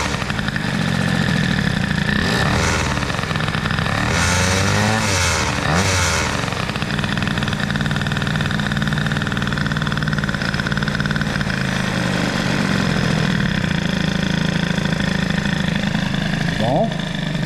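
A hot, rich-running Peugeot 103 moped with a Doppler Stock cylinder and new carburettor idles loudly nearby. It has a steady buzzing tone and a couple of brief throttle blips partway through.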